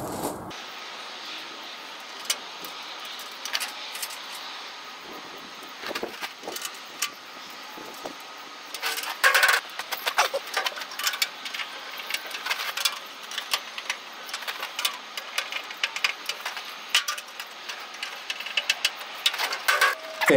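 A spanner or ratchet tightening nuts on a Paxton trailer during assembly, with quick clicking ratchet strokes in irregular bursts that grow busier midway, close and without talk.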